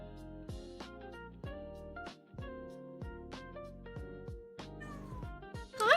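A house cat meows a few times close by, the cries rising out of steady background music near the end while someone paints miniatures.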